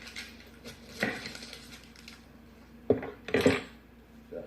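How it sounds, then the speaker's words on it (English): A knife cuts through a large onion on a board, with a few sharp chopping knocks and clinks spaced irregularly, fairly close but moderate in level, with no voices. "That's me cutting the onion up."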